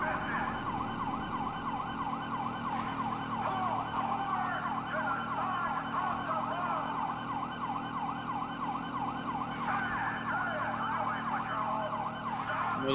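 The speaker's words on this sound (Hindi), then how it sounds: "मुझे लगता है उनको साइरन ही नहीं सुनाई दे रहा।" An emergency vehicle siren wails continuously in the Grand Theft Auto 5 video game, a repeating rising-and-falling tone over the low rumble of a driving vehicle in heavy traffic.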